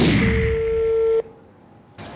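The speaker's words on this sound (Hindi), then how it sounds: "ओके तो उसको कॉल करते हैं मोबाइल से।" A mobile phone dialing a call: a loud steady tone holds for about a second, cuts off abruptly into near silence, then a faint line sound returns.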